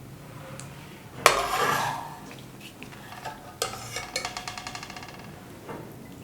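Cooked bhuna aloo is scooped from a pot onto a plate: metal spoon clanks and scrapes against the cookware, a loud clatter early on, then a rapid series of light ticks and taps, all close and without talk.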